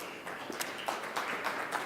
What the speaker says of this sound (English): A hearty applause to the panelists this evening